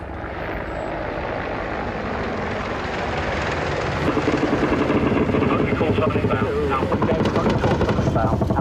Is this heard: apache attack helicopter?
yes